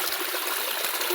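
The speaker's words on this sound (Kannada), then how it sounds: "ಅಲ್ಲೊಂದು ಅಲ್ತೆ ನೀರು ಬರೋನುಂಡು" Water from a natural spring flows in a steady, close, broadband rush that does not change for the whole moment.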